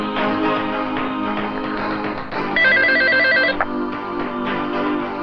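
A telephone rings on an outgoing call, a warbling electronic ring tone heard once clearly through a steady background hum.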